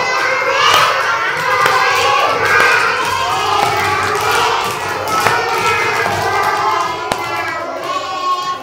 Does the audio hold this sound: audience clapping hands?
yes